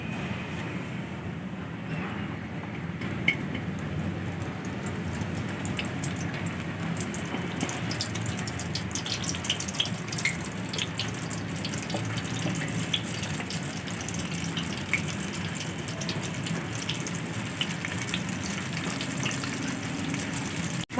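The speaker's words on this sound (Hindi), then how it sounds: "अब हम इसमें चिकन फ्राई कर लेंगे।" Chicken frying in hot oil for home-style KFC fried chicken, a dense, steady sizzle and bubbling hiss that holds at even loudness throughout, with small pops scattered across it.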